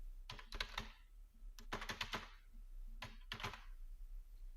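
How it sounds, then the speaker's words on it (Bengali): Keys clatter on a computer keyboard while a document is typed in MS Word, coming in three quick bursts of close, crisp clicks separated by short pauses in a quiet room. "তারপরে এন্টার দিব, আরেকটা এন্টার দিব, লিখব ক্যাশ মেমো।"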